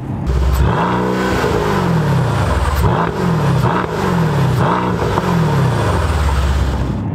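A Mercedes-AMG C63 S Edition 1 engine, 4.0-litre, revs repeatedly, rising and falling in pitch with loud, throaty bursts and a high-pitched note at high RPM, close to the microphone.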